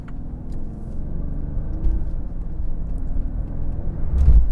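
A Mercedes-Benz CL65 AMG with 1,000 Nm of torque accelerates hard on a wet freeway, a loud, steady low engine rumble that swells near the end as the rear wheels lose traction.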